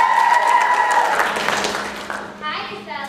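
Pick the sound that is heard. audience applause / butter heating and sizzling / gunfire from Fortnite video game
audience applause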